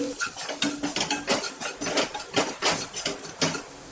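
A metal spoon stirs a spiced leftover rice mixture with coriander powder, garam masala and Kashmiri red chili in a pan, making a rhythmic series of scraping clinks and scrapes, close and moderately loud.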